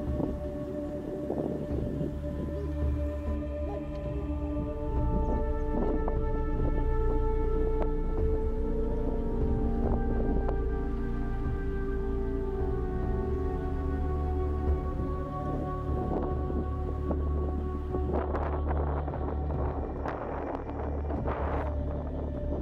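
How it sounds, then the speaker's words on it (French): Strong wind buffets the microphone in the Canary Islands, a loud, continuous low rumble with tonal whistling and hum throughout, and faint sharper sounds near the end. "il y avait énormément de vent"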